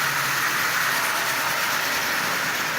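A Marx Commodore Vanderbilt toy locomotive, converted from wind-up to electric power, runs at low power with a steady, smooth mechanical whir and hum of wheels and motor, close and continuous, with no voices.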